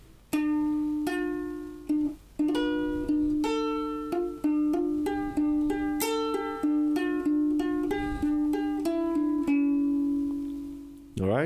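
Ukulele plucking a song's bridge with extra notes filling the gaps between phrases, a steady run of bright picked notes and strummed chords played close and clear, with no talking over it.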